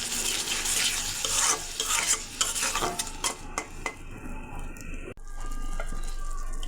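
Ground spice paste sizzles loudly in hot oil in a frying pan while being stirred for a tilapia oil-jhal curry, with scraping and a metal clack partway through, then a steady frying hiss.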